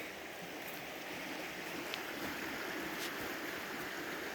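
Steady broadband rushing of a mountain creek, continuous and fairly close, with no voices.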